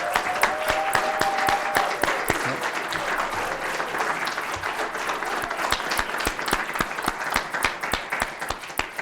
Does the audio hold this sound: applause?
yes